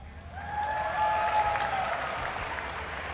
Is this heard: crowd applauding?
yes